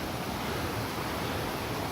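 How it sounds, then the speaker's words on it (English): A raging torrent of river water at Ingleton Waterfalls roars as a dense, steady broadband rush, loud and unbroken throughout with no voices. "And look at this raging torrent."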